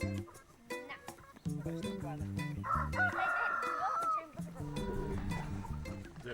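On a rural New Zealand farm, a rooster gives one drawn-out crow amid free-range chickens, heard under steady background music.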